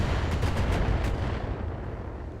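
Short range missile volley in the PC game Battletech: a rapid cluster of launch thumps and pops over a dense, loud rumbling roar that slowly fades, with no voices.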